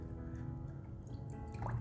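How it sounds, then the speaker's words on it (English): A makeup brush swirled through a bowl of water mixed with soap and olive oil, giving soft, close, faint dripping and sloshing liquid sounds with small gurgles. "you need to swirl your makeup brush in the water which has soap and olive oil"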